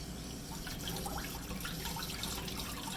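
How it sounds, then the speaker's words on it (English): A Spyderco Sage 5 knife with an M4 steel blade is rinsed under a running tap, a steady close wash of splashing water over three seconds with no voices. "Let me rinse this off again real quick."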